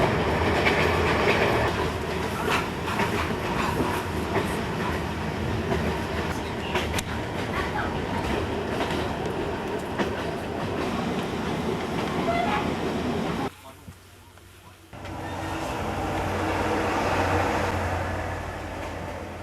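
A passenger train rolls along a single-track line in China in 1993, a loud continuous rumble with rhythmic wheel clatter, briefly dropping quiet before resuming.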